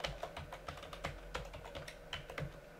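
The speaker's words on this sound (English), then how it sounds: "And type in the newly created root password." Rapid, continuous typing on a computer keyboard, with dense close-up key clicks running steadily throughout with no voices.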